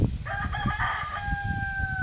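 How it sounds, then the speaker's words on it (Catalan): A rooster crows nearby, a loud drawn-out call with a rising then sustained note over faint background noise. "Que guapo que és el meu gall."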